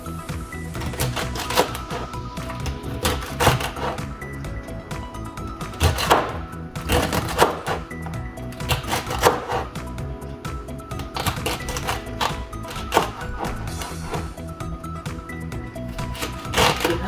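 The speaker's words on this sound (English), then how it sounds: "I need to cut it in bite sizes so that it will be easily blended" A knife chops fresh celery into bite-size pieces on a cutting board, a quick irregular run of sharp close taps and crunches continuing throughout.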